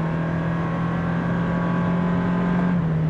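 A 2023 Toyota Prius Limited hybrid launches hard from a brake-torqued standstill with a steady, humming drivetrain tone that holds level, then dips slightly in pitch near the end.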